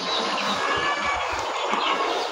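Around three thousand fourteen-day-old Sonali super hybrid chicks in a poultry farm shed make a dense, continuous chorus of peeping and clucking, loud and close with no pauses.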